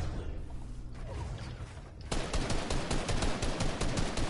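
Rapid automatic gunfire in a 2K video game, a loud, tight stream of shots starting abruptly after a quieter stretch of rumbling game sound.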